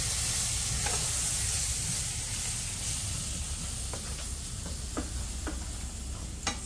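Green seasoning of celery, shadow bennie and thyme sizzles with garlic, onions, curry and jeera in a pan, a steady close frying hiss with a few light stirring scrapes scattered through.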